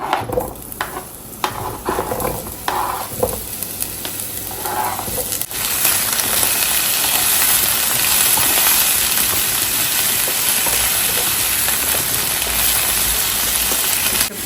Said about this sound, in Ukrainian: Кабачки не смажились, а тушкувались, накриваю пательню кришкою.